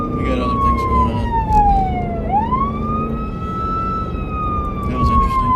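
A police car siren wailing during a live patrol, a loud sweeping tone that falls and then rises again over steady road and engine rumble.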